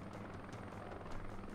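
A Cobra attack helicopter in the video game Blitzkrieg 3 gives a steady, quiet rotor thump with rhythmic blade chop, heard alone for a brief moment.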